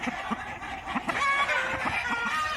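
A 17-month-old lamboong-type cockerel weighing 2.9 kg gives one short, close crow midway, with a few soft clucks before it.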